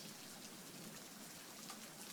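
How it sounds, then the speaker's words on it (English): Heavy storm rain pours down as a dense, steady hiss, constant and close, with no voices or other sounds breaking through. "the rain suddenly became heavy once more"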